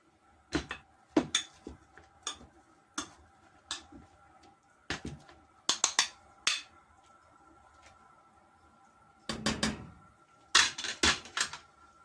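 Potatoes being mashed by hand in a pot, a series of short, sharp knocks and thuds in an uneven rhythm with brief pauses, then a denser burst of strikes near the end.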